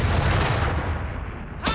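Artillery barrage in Company of Heroes 3: dense, rumbling low booms and crackling blasts run continuously for nearly two seconds, loud and close, ending in a sharp bright burst.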